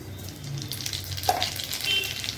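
Black cumin seeds hit hot oil in a pan, giving a steady, close sizzle with a brief brighter crackle partway through.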